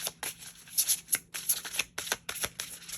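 A deck of cards is shuffled up close, a rapid rustling riffle of crisp flicks and soft slaps repeating in quick bursts, with no voices.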